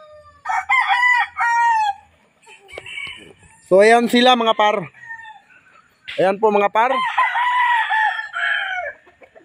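Gamefowl from a Raptor sweater and Hennie sweater cross crow loudly and cluck, with several long crows close by, while someone talks between them.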